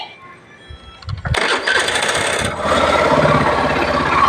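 A Suzuki Burgman Street 125 scooter, just cleaned, starts with a brief starter whir after a few clicks and catches into a steady, close idle that holds to the end.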